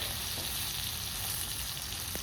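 Fish pieces coated in masala fry in a pan of hot oil, giving a steady, dense sizzle that stays even throughout, close by with no talk.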